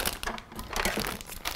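A plastic bag of chocolate chips is handled and opened in a home kitchen, giving close, loud crinkling and rustling bursts throughout with brief pauses.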